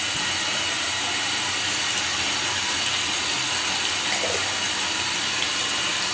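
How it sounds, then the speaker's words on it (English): Cold water from a mains tap pours steadily into a jar, a continuous close splashing rush with no voices. "Cold water from the mains tap."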